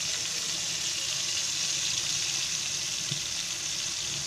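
Bombay duck fish, coated in flour, frying in hot oil in a pan, giving a steady, close, broadband sizzle that holds evenly throughout with no talking.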